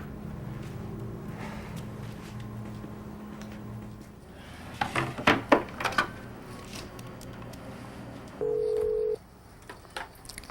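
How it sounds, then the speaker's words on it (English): A telephone is dialed to reach an office extension: a quick cluster of short keypad tones, then a single steady tone about a second long, over a low background hum. "Dave in the warehouse, please call Jim Smith at extension 222."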